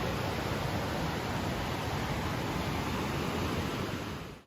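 Steady, dense rush of the fast-flowing Fırtına Stream, a mountain stream near Çamlıhemşin, Turkey, broadband and unbroken.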